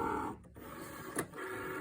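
A Cricut cutting machine draws in a mat loaded with a bracelet for engraving, giving a steady mechanical whir with a short click partway through.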